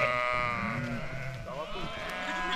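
A flock of sheep bleats in overlapping, wavering calls, loud and close, with many animals crying at once and a voice mixed in among them.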